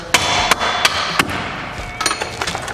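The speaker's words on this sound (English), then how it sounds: "Little love tap with anything that looks like a hammer" A hammer taps a metal differential part several times, sharp clinks in an uneven rhythm, close and fairly loud, with a quick cluster of lighter taps near the end.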